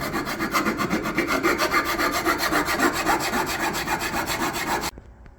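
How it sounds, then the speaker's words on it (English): A file and sandpaper work a shift plate for a 1969-72 Grand Prix four-speed conversion in steady rhythmic back-and-forth rasping strokes, close and continuous for about five seconds before stopping abruptly, with no talking. "we're done filing and sanding on the shift plate"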